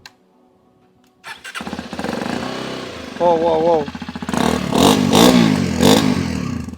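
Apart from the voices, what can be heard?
Hero Xpulse 210 motorcycle engine starting and revving exhaust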